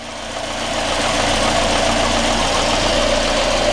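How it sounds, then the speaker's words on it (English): Volvo 480 engine running just after starting, a loud, close, steady idle that swells slightly in the first second and then holds evenly, with no talk over it. "when the car starts up and gets running quite like that"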